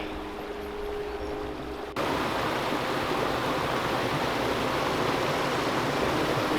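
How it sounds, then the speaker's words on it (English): The Pecos River runs as a small trickle in the Pecos Wilderness, a steady broadband rush of flowing water heard close, beginning faintly and swelling suddenly to a louder, constant wash. "we've made it down to the mighty Pecos River. That is just a trickle here"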